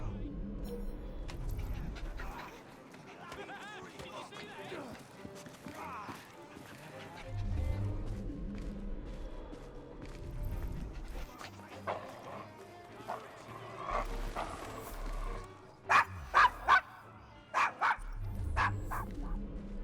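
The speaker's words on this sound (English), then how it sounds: "Is your dog quite all right?" A dog barks in Assassin's Creed Syndicate, in a rough Victorian London quarter called the Devil's Acre. Several sharp barks ring out near the end, over horse hooves clip-clopping and people talking.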